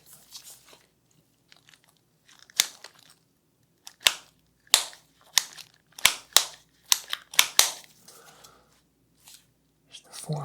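Sharp mechanical pops and clicks from handling a 1942 German Luger pistol during cleaning, about a dozen spaced irregularly, crisp and close against near silence.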